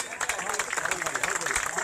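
A crowd at a university teachers' protest meeting claps steadily, a brisk patter of many hands up close, with a voice speaking over the applause.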